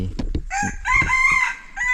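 A rooster crows nearby, a loud, close call that rises and holds for about a second after a few short clucks, with nothing else over it.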